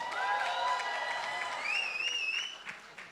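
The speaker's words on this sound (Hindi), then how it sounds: "एक बार जोरदार ताली होनी चाहिए" Audience applause rises at a Pathaan film event with Shah Rukh Khan. It is fairly faint and scattered, mixed under sustained, whistle-like tones and the crowd's noise, and thins out toward the end.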